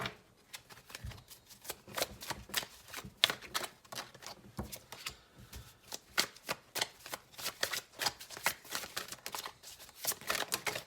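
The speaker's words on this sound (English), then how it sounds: "So I'm gonna keep shuffling until we get about 3 more cards" Tarot cards being shuffled by hand, a steady run of soft, close riffling flutters and slaps repeating in quick irregular bursts, with no talking over them.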